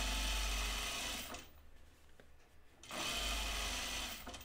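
A sewing machine stitching a dress: a steady whirring run that stops for about a second and a half, then starts up again at the same close, even pace.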